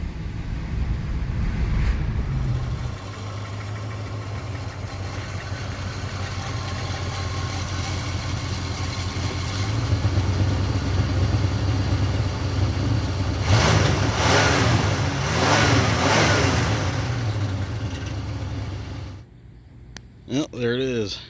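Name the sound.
car engine during a test drive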